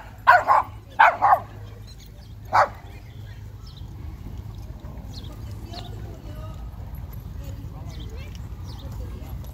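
A Cane Corso and a shepherd dog bark at a dog park: three or four loud barks in quick succession at the start, then a single bark, followed by quieter outdoor noise.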